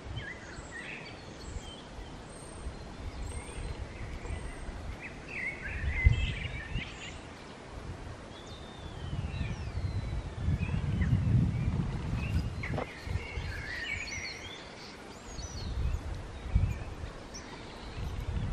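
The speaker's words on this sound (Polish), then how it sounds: "A posłuchajcie, jak ptaszki śpiewają." Blackbirds and starlings singing outdoors near farm buildings at sunset, scattered chirps and whistles over a steady rustling, breezy background with low rumbling noise.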